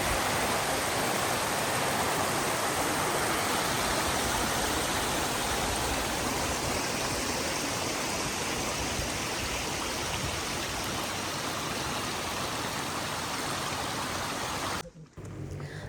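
A waterfall on the Ben Nevis mountain path in the Scottish Highlands gives a steady, broad rushing roar that holds evenly throughout, with a faint thump near the end.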